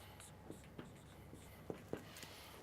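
A pen scratching out a formula by hand, a few short faint strokes and taps in a quiet room.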